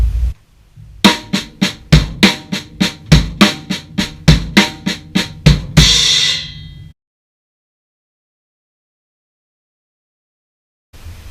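A drum kit plays a right-left-left-kick phrase slowly, about a dozen evenly spaced strokes with low kick thumps among them, closing on a cymbal crash that decays, then a long silence.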